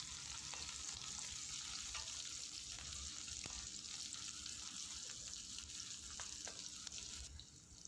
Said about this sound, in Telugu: తర్వాత కట్ చేసి పెట్టుకున్న ఆనియన్ ముక్కలు కూడా వేసేసుకొని బాగా ఫ్రై చేసుకోవాలి